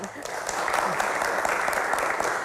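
Students in a TV studio audience applaud steadily, a dense wash of clapping throughout, while a voice speaks faintly over it.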